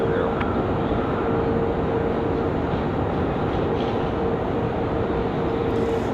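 A FedEx cargo jet rolls down runway 5 left at Raleigh-Durham International Airport, a steady loud broadband engine roar with a constant hum holding throughout, without talk.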